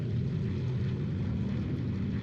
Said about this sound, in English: Canadair CL-215. Look at those round engines. Listen to that sound.